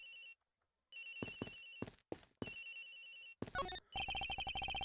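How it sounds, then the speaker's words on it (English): A telephone rings in the Ace Attorney Investigations video game, sounding as several separate bursts of electronic ringing that end in a faster, denser stretch of rapid trills. Each burst is clear and moderately loud with short gaps between. "It sounds like the phone is up in the flight attendant's room."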